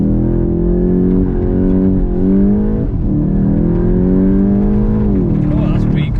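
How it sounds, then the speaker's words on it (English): A 2021 VW Golf Mk8 GTI launches hard under launch control, its engine note rising through the gears with brief dips at each shift, heard loudly from inside the cabin. "Try and do a launch here actually."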